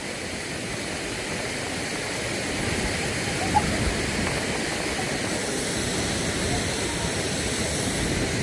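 A waterfall at Santol, La Union roars as a steady, dense rush of water, constant and fairly loud throughout with no clear pauses.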